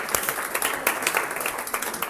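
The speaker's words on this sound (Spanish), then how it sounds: "Un aplauso." Female university students applaud in a lecture hall, a dense patter of many hands clapping steadily at moderate volume, with no voices.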